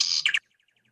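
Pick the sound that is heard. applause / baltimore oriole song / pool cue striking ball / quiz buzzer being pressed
baltimore oriole song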